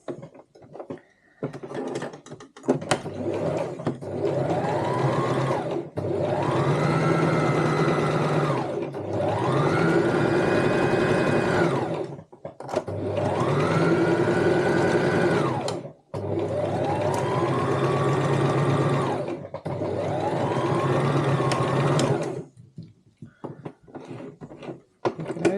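A sewing machine stitches along the bottom seam of a cosmetic bag, running in four long steady bursts of motor whir and needle chatter separated by short pauses, close and loud.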